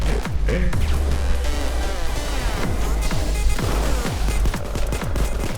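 Sustained automatic gunfire in the heist shooter Payday 2: loud, rapid overlapping shots and impacts filling the whole stretch without a break.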